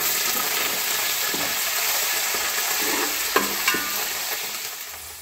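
Ginger and curry leaves frying in oil for a lemon pickle, a continuous dense sizzle up close with a few spatula knocks and scrapes, no speech.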